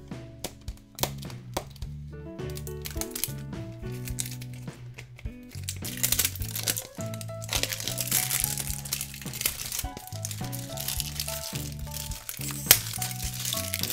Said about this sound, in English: could this unwrap any slower?